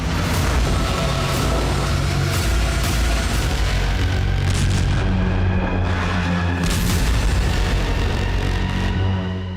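Bombing of Ukrainian cities by Russian forces during the war, with loud, dense rumbling booms and explosions layered over a constant heavy roar, and sharper blasts breaking out at intervals.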